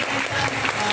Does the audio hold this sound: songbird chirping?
no